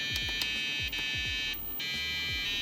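Piezo buzzer in a soldered handheld block-puzzle game kit playing its start-up tune, a loud shrill series of short electronic beeping notes in quick succession, with faint clicks underneath.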